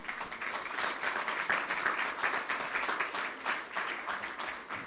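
Audience at a youth award ceremony in Lille applauds a presenter coming on stage, a steady, even round of many hands clapping at a moderate distance, unbroken and without talk.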